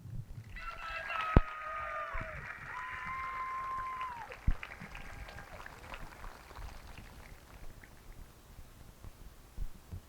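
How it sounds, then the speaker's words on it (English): An audience at a high school class of 2021 graduation ceremony claps in a broad, distant wash that continues through the clip, with a few sharp knocks and brief whistle-like tones above it. "Please have one more round of applause for all of these outstanding scholars and their hard work"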